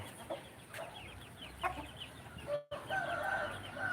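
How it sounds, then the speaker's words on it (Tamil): Chickens cluck and chatter in short bursts across a noisy farmyard, with a brief dropout partway through. "கோழிலாம் இருக்கிறது பார்த்தீங்களா"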